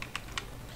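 A command being typed on a computer keyboard during a Windows activation fix, two crisp close key clicks spaced apart, with no voice.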